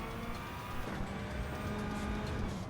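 Race car engine in Gran Turismo 7 droning steadily throughout, pitch shifting as the car accelerates and brakes through corners, with a faint tyre skid, all close and continuous.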